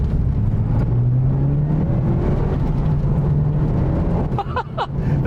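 Mitsubishi Lancer Evo Tommi Makinen edition driving hard on a rally stage, a steady close engine drone with rising pitch sweeps under acceleration, then brief sharper clatters near the end.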